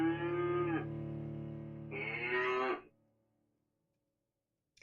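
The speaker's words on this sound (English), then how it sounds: "Hey Google, what does a cow say?" A Google Home smart speaker plays a recorded cow moo: two long, loud, close lowing calls in succession, then near silence with a faint click at the end.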